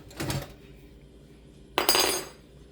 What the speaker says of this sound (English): I'm just gonna put this lid on here.